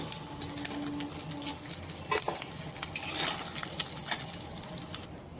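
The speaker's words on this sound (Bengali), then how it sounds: "তেলও গরম হয়ে গেছে এবার মাছগুলো ভেজে নিচ্ছি" Dried fish sizzling in hot oil after being washed and rubbed with salt and turmeric, a steady close crackle with scattered pops and occasional stirring clinks, no voices.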